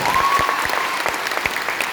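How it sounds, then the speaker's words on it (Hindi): Audience applause at a speech in Patna, a continuous crowd of clapping with distinct individual claps popping through, moderately loud and even for the full stretch, with no talking over it. "तो इसका ना एक बार तालियां हो गया इस बात के ऊपर।"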